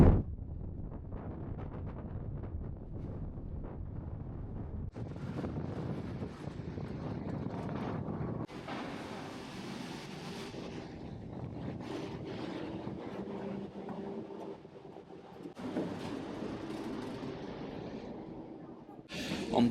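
Strong wind roars at a ferry port, buffeting the microphone in heavy continuous gusts that surge and shift in intensity across the whole stretch, with no voice heard.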